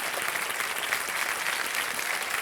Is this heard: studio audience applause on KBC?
yes